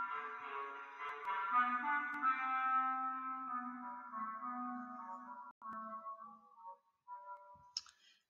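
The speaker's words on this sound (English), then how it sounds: "So that is the sound of a clarinet playing their low notes." A solo clarinet plays a lyrical low-register melody, the cat theme from Peter and the Wolf, its notes sustained and close with no talking, ending in a short pause and a faint click.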